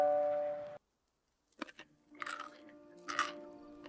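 Crunchy pickles being bitten and chewed close to the mic: a few sharp crisp crunches after a brief silence, over a faint steady background hum.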